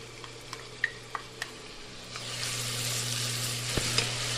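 Shallots and garlic frying in oil for chili crisp, a few sharp ticks and clinks early, then a broad sizzle building up and holding steady over a low hum.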